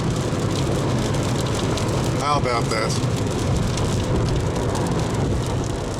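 Steady rain drums over the car while driving back into Maryland, with a constant wash of road and downpour noise throughout; a voice briefly speaks partway through.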